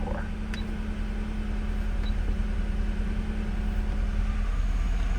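Climate-control fan of a 1991 Acura NSX blowing steadily inside the cabin, a continuous broad whoosh of air with a low engine hum beneath it, holding even for the whole stretch with no talking.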